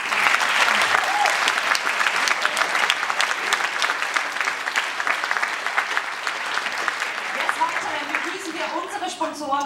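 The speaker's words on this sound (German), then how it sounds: "Herzlichen Applaus, Heinz Hönig." Sustained audience applause at an award night in Munich, steady and full-bodied clapping from a large indoor crowd for nearly ten seconds, with a few voices rising near the end.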